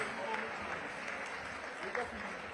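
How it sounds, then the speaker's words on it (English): Crowd applause at a Lagos conference for the Governor of Lagos State, a steady dense wash of clapping throughout, moderately loud in a large hall. "let's give him a rousing round of applause"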